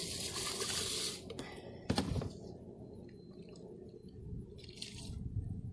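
Molasses dumped into a hemp-waste fertilizer mix, a thick wet squish and glug with scraping and dripping, a sharp plop near the middle, then quieter sloppy sounds close by.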